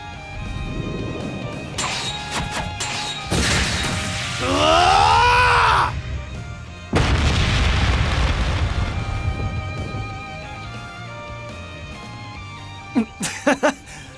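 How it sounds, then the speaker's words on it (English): Ungula Barrage attack in Trails Beyond the Horizon bursts out as loud crashing, roaring blasts across the span, with a rising whooshing sweep in the middle and sharp staccato hits near the end, game music running underneath. "Was that the Ungula Barrage?"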